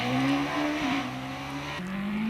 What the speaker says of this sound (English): 1600cc racing cars now.